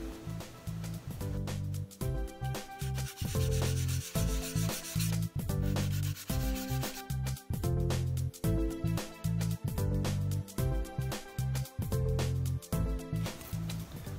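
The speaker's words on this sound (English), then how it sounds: "so I want to sand it." Balsa wood on a Balsa USA Smoothie RC plane kit part is sanded by hand during an aileron servo wing mount modification, giving steady, repeated rubbing strokes close by over a constant tonal background.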